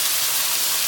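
Chicken feet fry in hot oil with a steady, dense sizzling hiss, close and continuous with no talk.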